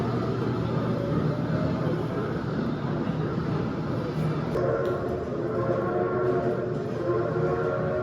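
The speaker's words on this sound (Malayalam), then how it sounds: "ട്രെയിൻ വരുന്നുണ്ട്" A train draws near with a steady, continuous rumble and rolling rail noise that fills the whole stretch, fairly loud, with no clear horn blast standing out.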